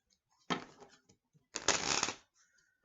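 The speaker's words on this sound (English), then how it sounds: "When the cards no longer want to shuffle, it means they're ready." Tarot deck shuffled by hand in two bursts of riffling, a short flutter then a longer crisp run of cards slapping together, close and fairly quiet in an otherwise still room.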